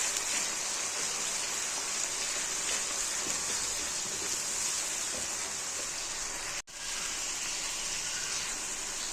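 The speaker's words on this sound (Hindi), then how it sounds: "तो मैं अब इस टाइम प्याज को यहाँ पर हल्का सा भून लूँगी।" Onions fry lightly in hot oil in a karahi, a steady dense sizzle and crackle heard close and unbroken apart from one brief dropout, with no voices.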